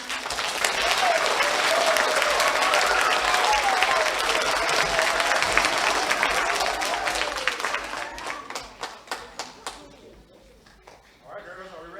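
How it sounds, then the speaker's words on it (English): Dense applause from a school assembly audience greeting the town mayor of Arkadelphia, loud and sustained for about eight seconds before thinning into scattered claps and fading out. "Please give a round of applause for our wonderful Arkadelphia Mayor."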